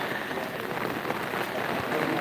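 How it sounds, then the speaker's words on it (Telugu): Light drizzle falls steadily in a village, a close, even patter of raindrops on surfaces that continues without pause. "మన ఊర్లో మాత్రం ఇప్పుడే నీళ్ళైతే అంటే వర్షం అయితే కురుస్తుంది"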